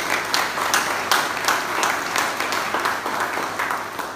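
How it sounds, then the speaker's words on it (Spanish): A church congregation at a centennial celebration service claps to welcome first-time visitors. The applause is steady, with distinct clap bursts throughout, moderately loud and close. "Le vamos a dar un aplauso,"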